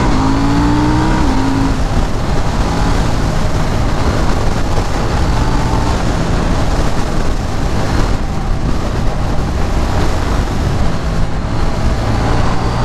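KTM Duke 790 motorcycle accelerating hard on an open road to overtake, a loud continuous engine roar with rising revs at the start, then a steady rush of engine and wind noise throughout.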